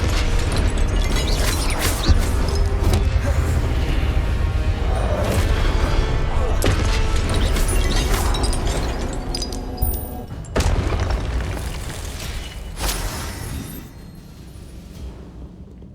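In Hogwarts Legacy, fire-blast spells burst in a dense, loud barrage of booming explosions and crashes that keep rolling for several seconds before fading to a quieter rumble at the end.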